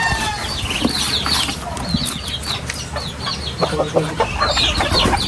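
Several chickens cluck and chatter close by in a busy, continuous flock, with scattered louder squawks and some rustling.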